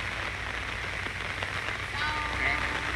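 Steady rain falls outdoors in a broad, continuous hiss at a cemetery, filling the whole stretch at an even, fairly loud level.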